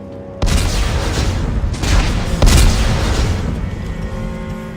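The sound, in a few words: explosives detonating in the video game Dead Space 3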